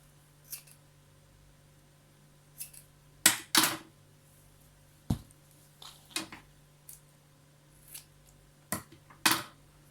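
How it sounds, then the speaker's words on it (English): Scissors snipping a small piece of short hair meant for wig ventilation: a scattering of sharp, close metallic snips at irregular intervals, some in quick pairs, with quiet pauses between and no talking. "let me cut a small piece so that you can see"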